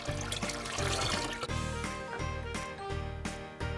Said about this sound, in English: Okay, pour some tea into my cup.